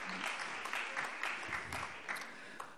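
Applause fills a parliamentary plenary session, a steady dense patter of many hands clapping throughout, moderately loud and without talk over it.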